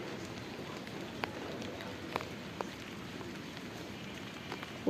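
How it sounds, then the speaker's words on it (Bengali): Rain falls on a rooftop garden with gourd plants in drums, a quiet, even patter with occasional distinct drips and taps standing out. "এখন বৃষ্টি হইতেছে"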